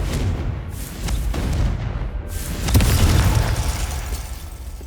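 Fire spell explosions in Hogwarts Legacy, the video game: two deep booming blasts with crackling bursts, the second one louder and longer, over a rumbling game soundscape.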